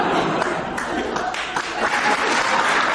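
An audience at a cabaret show claps steadily in a thick, even roar of applause, with a voice faintly speaking through it.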